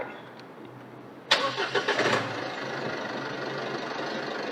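An Isuzu D-Max 2022 pickup engine, started with an added push-start button, cranks briefly with a few rapid chugs, then catches and settles into a steady idle, heard close by with no talking.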